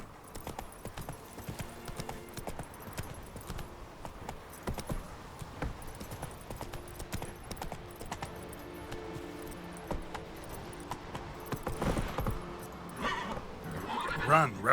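Roach, the horse in The Witcher 3, gallops along in rhythmic hoof clip-clops, steady and moderately close. Speech runs over the hoofbeats, and harness jingles and clinks toward the end.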